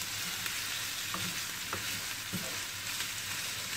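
Onions and green peppers sauté in a pan for a börek filling, giving a continuous close sizzle with a few soft stirring knocks and no voices.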